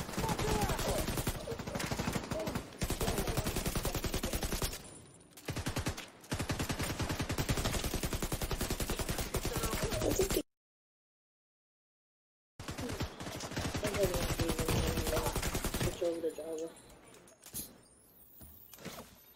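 Sustained automatic gunfire in The Division 2, dense loud bursts of rapid shots broken by short pauses and a stretch of silence, then more heavy firing that tapers off.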